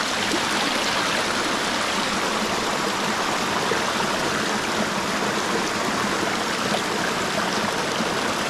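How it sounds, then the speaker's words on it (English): Icy cold mountain stream rushing steadily over rocks, a continuous broadband wash of flowing water heard close and loud with no talking. "cold, icy mountain water."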